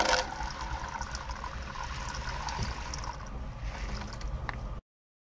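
Ladyfinger (okra) seeds dropped into a container of warm water for seed treatment, giving a steady watery trickle and splash close by that runs for about five seconds and then cuts off.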